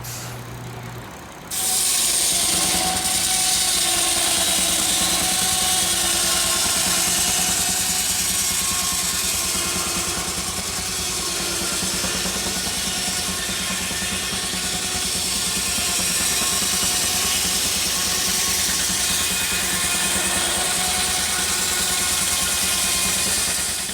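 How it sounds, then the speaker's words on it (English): A loud, steady mechanical din of an old steam-powered sawmill running continuously, with humming tones and rattling, clattering texture throughout, after a brief quieter start. "how could you not love a good old-fashioned steam-powered sawmill?"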